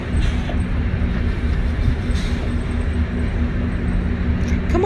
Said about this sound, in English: waiting for my train.